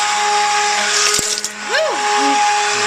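A lavender soap mixture of shea butter and sunflower oil is stirred, giving a steady, loud humming whir throughout, with a brief voice exclamation partway through.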